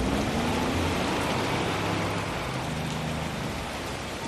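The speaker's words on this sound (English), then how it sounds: "Then come the torrential autumn rains." Torrential autumn rain pours down in a steady, dense hiss that fills the whole stretch at an even, moderately loud level, with no voices.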